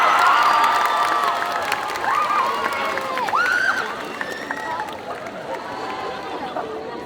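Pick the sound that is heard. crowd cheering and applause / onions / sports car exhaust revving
crowd cheering and applause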